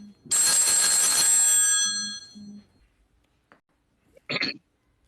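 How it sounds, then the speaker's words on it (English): A mobile phone ringtone goes off nearby, a bright electronic chiming burst lasting over a second, followed by softer low tones and a brief second chirp, with a voice faintly present. "Oh, that was his phone."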